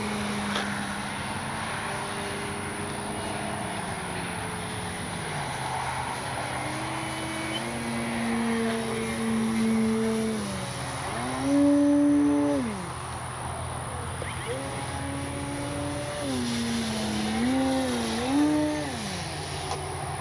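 Avios Extra NG 300 RC airplane flying, a distant electric motor whine that rises and falls in pitch as it maneuvers, growing louder on passes, over steady outdoor background noise with no talk.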